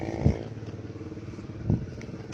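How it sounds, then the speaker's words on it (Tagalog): A motorcycle goes by on a town street during a walk past the municipal hall, its engine a steady low drone with two brief louder bursts. "may dumaan pang motor at ito nakaparada."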